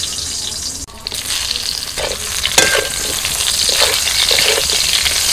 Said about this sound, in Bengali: ওই তেলের মধ্যে আমি বেগুনটা একটু হালকা করে ভেজে নেব